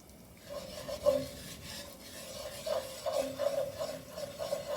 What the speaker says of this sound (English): you want to keep stirring this for 1 minute